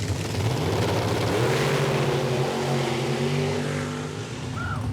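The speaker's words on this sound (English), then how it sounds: "I've never sat this close, no barrier, to the cars launching." Drag racing cars launching from the starting line at a strip, heard from close range with no barrier: a loud sustained engine roar that rises in pitch as the cars pull away, then fades slightly.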